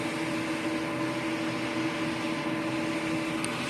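A printer runs its head capping and cleaning cycle, a steady mechanical whir with a constant tonal hum that holds at an even level throughout, with no voices present.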